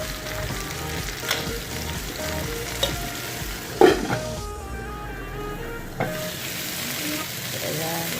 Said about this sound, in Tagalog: ilagay na natin yung ating malunggay. Then, haluin ulit natin siya.